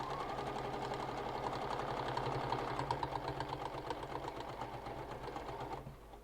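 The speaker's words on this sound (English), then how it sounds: "when you stitch going down the folds, not against the folds" A sewing machine runs steadily, stitching a zip around a wallet and following the folds, its rapid mechanical whirr continuous and close for about six seconds before slowing near the end.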